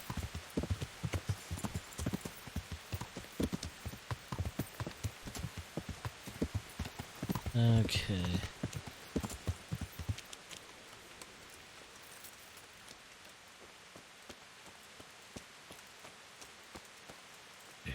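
A horse's hooves clip-clop steadily in the video game Kingdom Come: Deliverance, with rain pattering underneath and a brief snort or whinny midway; the hoofbeats stop after about ten seconds, leaving only soft rain and a short spoken word.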